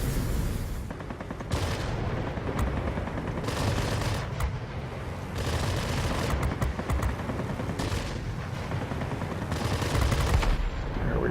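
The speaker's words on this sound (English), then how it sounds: "Let the machine guns finish him off." Rapid bursts of machine-gun fire from a Yak-9 fighter plane in the World of Warplanes video game, loud and sustained, with repeated clattering volleys over a constant engine drone.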